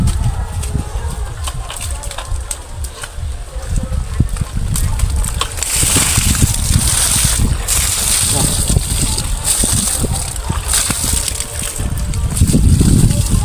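Bucketfuls of water splash onto cauliflower plants in a village garden, with a steady wet spatter and rushing pours that build in the later half, outdoors under faint ambient noise.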